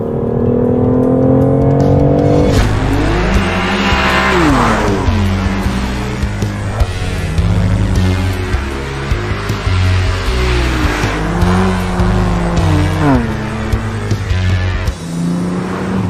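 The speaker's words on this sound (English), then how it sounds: "On track, this M2 CS is a whole lot of fun. Slides for miles." A BMW M2 CS sliding around a race track: the engine roars and revs up and down through gear changes, with tire squeal during the slides, loud and close throughout.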